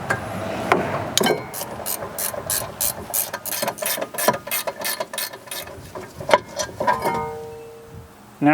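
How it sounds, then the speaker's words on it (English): A ratchet loosening the 17mm caliper bracket bolts on a 2013-2017 Honda Accord's rear knuckle, rapid rhythmic clicking in bursts with pauses, close and crisp, no talk. "Then remove the caliper bracket from the knuckle with 2 17mm bolts."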